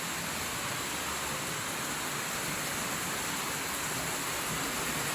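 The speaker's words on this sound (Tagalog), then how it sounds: "Medyo malakas ang ulan." Heavy rain falling outside a balcony in a Philippine province, a continuous, even hiss of downpour with no break and no voices.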